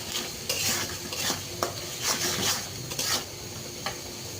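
Spices with turmeric and chili sautéing in a pan, with repeated scraping strokes of a spoon against the pan roughly every half second over a low steady sizzle, no voices.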